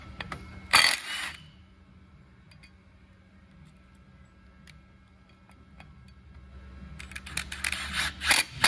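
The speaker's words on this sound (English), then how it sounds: "I'm going to remove this bolt, put this washer underneath of it" Short clicks and metallic clinks as a bolt is removed and a washer fitted beneath it on a rotor being dynamically balanced, with a burst near the start, a quiet stretch, then more clustered ticking toward the end.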